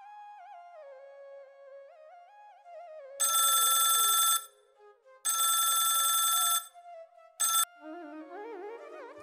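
A telephone rings in three bursts, two long trills and a short one, loud against a quiet domestic scene with soft tonal background sound in between.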